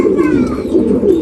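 A racing pigeon held in the hand coos loudly and close up in one brief, continuous throaty burst.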